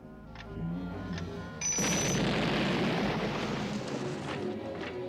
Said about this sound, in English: Oh, that was a good looking explosion.